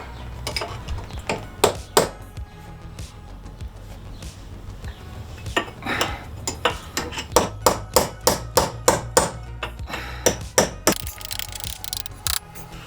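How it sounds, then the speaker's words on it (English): A hammer drives a chisel against a worn car wheel bearing on a Vauxhall Vectra, producing sharp metallic strikes, first sparse and then in quick repeated runs, loud and close with no talk. "We'll try with a chisel for a start and see how it goes."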